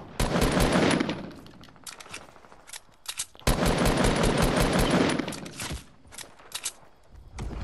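Fortnite gunfire rattles out in loud automatic bursts, two long sustained volleys separated by shorter scattered shots and brief pauses, close and dominant with no talking.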